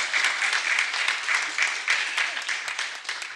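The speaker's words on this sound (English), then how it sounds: "Let's give my bestie another round of applause." Moderate applause from the crowd at a county commissioners event in Essex County, many hands clapping in a steady, fairly even wash with a few sharper claps, with a faint voice underneath.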